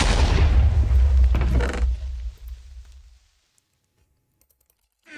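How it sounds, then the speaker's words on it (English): A video game explosion, a loud booming blast with rumbling low end, peaks in the first two seconds and then decays through a fading tail into near silence. "Rather trigger happy with that explosion, aren't you?"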